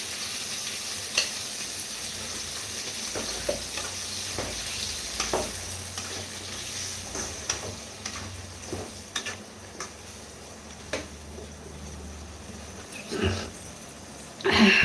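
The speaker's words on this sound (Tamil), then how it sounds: "தக்காளி வந்து நான் வெட்டி போடல, அரைச்சி ஊற்றுறேன்." Ground tomato is stirred into a sizzling dried fish curry, a steady close sizzle punctuated by regular spoon clicks and scrapes against the pot, with a louder clatter near the end.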